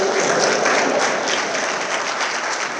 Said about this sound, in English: I want you guys to give your parents a round of applause.